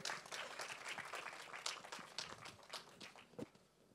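A crowd at a film trailer launch event claps in a steady, dense patter of applause, moderately distant and fairly quiet, continuing for several seconds.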